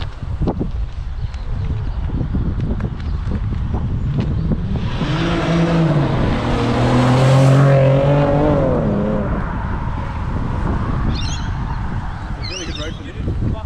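A supercharged Holden SV6 car driving hard and losing traction, a rising and falling engine roar with a squealing, tyre-like tonal sweep passing close by, faint talk around it.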